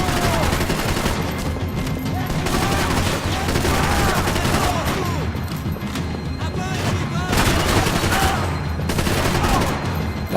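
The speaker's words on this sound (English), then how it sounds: "When you pelt them with bullets like that," Dense gunfire fills a firefight in the video game Max Payne 3, rapid overlapping shots and booming impacts crowding together continuously, loud and close with other in-game sounds mixed through.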